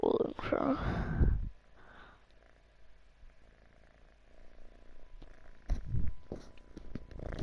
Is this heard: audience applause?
no